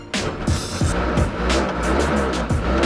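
A used vintage car's engine is revved hard several times, loud and close, each throttle blip rising and falling in a rough repeating rhythm.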